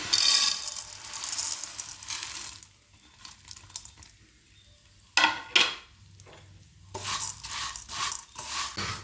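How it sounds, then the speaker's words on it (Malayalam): Dough balls sizzle and are stirred in a pan, with scraping and clinking of a utensil against the metal in short bursts separated by quieter gaps. "നമുക്ക് ഈ സീമ ഇട്ടിട്ട് നന്നായിട്ടൊന്ന് വതക്കിയെടുക്കാം"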